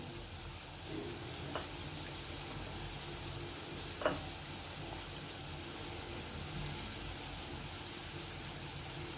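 Potatoes fry in a pan with turmeric and onion-garlic spice mix for a dry potato bhaji, giving a quiet, steady sizzle with a couple of faint clinks and no talk.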